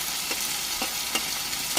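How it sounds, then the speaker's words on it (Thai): Sliced red chili stir-frying with spicy beef and bamboo shoots in a hot pan, a steady loud sizzle punctuated by a few soft scraping stirs, with no voices. "เดี๋ยวจะใส่ตัวพริกแดงหั่นแฉลบลงไปตอนนี้เลยค่ะ"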